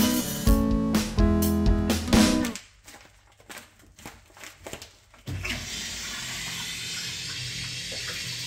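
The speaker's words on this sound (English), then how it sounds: "and flush a toilet." A toilet flushes with a sudden rush of water that swells into a steady, close hiss and gurgle. Before it come louder clattering sounds and a quieter stretch.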